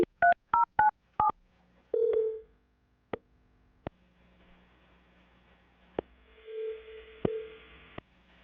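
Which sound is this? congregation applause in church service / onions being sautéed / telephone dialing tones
telephone dialing tones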